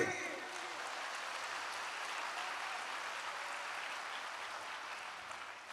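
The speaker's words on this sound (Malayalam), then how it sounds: "എല്ലാവരും കൈയടിക്ക്." Steady, dense clapping from an audience at a Bible convention. The applause holds at an even level throughout and is heard on its own, with no clear speech over it.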